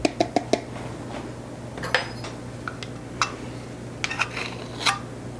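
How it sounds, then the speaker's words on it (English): Dry muffin ingredients (whole grain flour, salt and baking powder) being stirred in a bowl, giving a few sharp clinks of utensil against the bowl near the start, then scattered light taps and scrapes over a steady low background hum. "I'll just stir these ingredients together"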